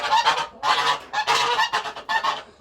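Geese honk loudly and repeatedly in a farmyard coop, several harsh nasal calls in quick clustered bursts close by, with no talking.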